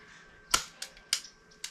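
A .22 AEA HP SS semi-auto airgun carbine fires four sharp, separate cracks at uneven intervals over under two seconds. The shots are close and fairly loud.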